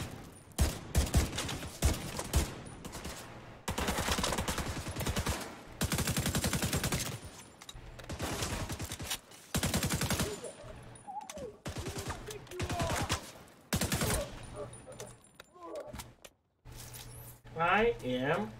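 Gunfire in The Division 2 arrives as repeated automatic bursts of several seconds each, loud and close, broken by short pauses, with a voice talking in between.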